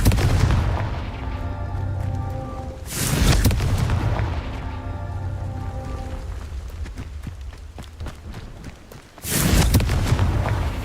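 Confringo blasting spell explosions in Hogwarts Legacy, loud booming bursts near the start, around three seconds and again near the end, with crackling debris and humming game tones between them and no talk.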